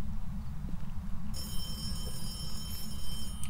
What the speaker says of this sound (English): Just set this phone off.